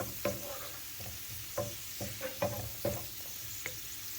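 Tangra fish frying in oil with browned garlic, a soft sizzle broken by repeated clinks and scrapes of a spatula at an uneven rhythm, fairly quiet and close, with no voices.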